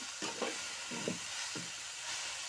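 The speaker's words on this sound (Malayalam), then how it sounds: "കറിവേപ്പില ഇട്ട് കൊടുക്കാം. ഇനി ഒന്ന് ഇളക്കി കൊടുക്കാം." Curry leaves are stirred in a frying pan for a taro-leaf thoran. Several short, close scraping strokes rise over a soft, steady sizzle.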